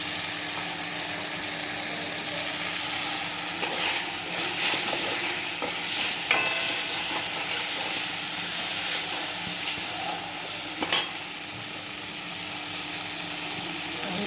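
Spice paste for a Bengali cauliflower curry sizzles steadily in a hot pan, a continuous close frying hiss with occasional clinks and stirring scrapes.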